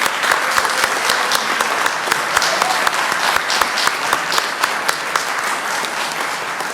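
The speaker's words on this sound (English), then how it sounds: "Let's give these young folks a round of applause." An audience at a city council meeting claps steadily, a dense sustained round of applause with no pauses, heard close and loud.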